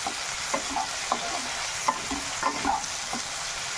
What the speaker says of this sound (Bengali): টমেটোটা দিয়েও ভালো মতন করে একটু ভেজে নিতে হবে